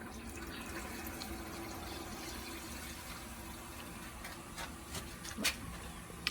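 Water runs steadily through a fill valve into an animal water tank, a constant close rushing hiss with no break, joined near the end by a few sharp clanks.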